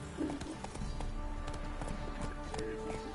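Horse hooves galloping in the open-world video game Witcher 3, a steady run of clip-clop beats under game music and ambience, with faint talk in the background.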